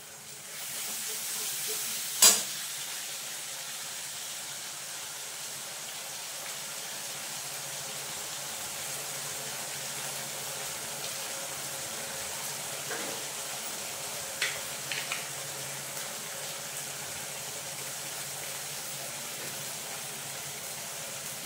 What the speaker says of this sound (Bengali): এটাকে ততক্ষণ পর্যন্ত ভাজবো যতক্ষণ না মশলাটা থেকে তেল ছাড়ে।